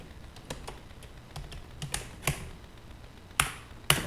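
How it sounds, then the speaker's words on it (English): Keys clack on a computer keyboard in a quiet room, a short run of irregular taps ending in two sharper, louder strikes. "now I'm going to type here system info"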